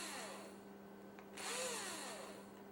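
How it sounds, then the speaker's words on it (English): A power drill mounted on a prosthetic hand runs with a steady whirring hum that rises in pitch and loudness partway through, heard close and alone. "I don't know what more useful to put there than a drill."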